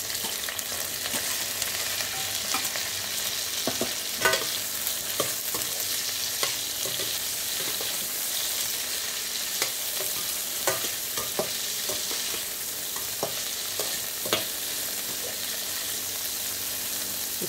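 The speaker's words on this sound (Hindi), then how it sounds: "इसको ऐसे खुले में बनाऊंगी फ्राई कर करके।" Okra frying uncovered in hot oil with asafoetida: a steady soft sizzle runs throughout, punctuated by scattered clicks and scrapes of a utensil stirring the pan.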